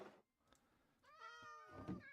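Cats meowing in Minecraft Skyblock, a short harmonic meow followed by another, clear and close, with faint game ambience between the calls.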